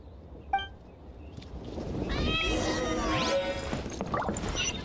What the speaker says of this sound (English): Is that like a cat?